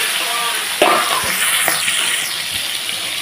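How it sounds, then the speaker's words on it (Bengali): Prawns dropped into hot oil in a wok, a fairly loud bubbling sizzle with a sharp burst as they go in, followed by steady frying noise. "এই যে চিংড়ি মাছগুলো কড়াইতে ছেড়ে দিচ্ছি।"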